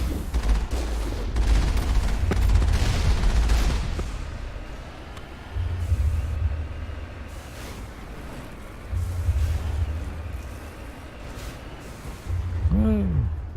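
Gunfire aimed at the player in Mass Effect comes in rapid, crackling bursts of shots, spaced several seconds apart, under a low rumbling game score and occasional speech.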